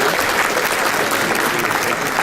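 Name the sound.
audience applause at a bar association event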